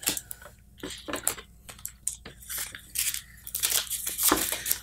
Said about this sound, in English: I would just shuffle the cards again.